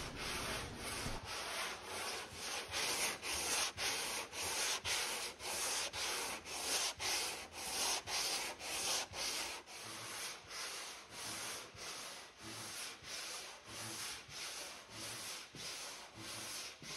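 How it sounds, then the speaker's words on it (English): Steady back-and-forth sanding of cured epoxy on a boat hull, a rhythmic abrasive rasp repeating about once per second, close and continuous with no voices. "I then began the arduous task of sanding it again."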